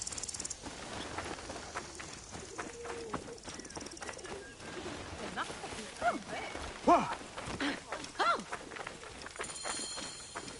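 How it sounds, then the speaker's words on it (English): Agitated pigeons coo and flutter at a pigeon tower in the ancient Egyptian game Assassin's Creed Origins, with throaty warbles rising amid footsteps and rustling, while people talk over the scene. "The pigeons are in a ruckus."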